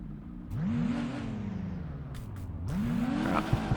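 A car drives on a highway in the racing game CarX Street, its engine revving up through two rising surges with gear changes, close and moderately loud.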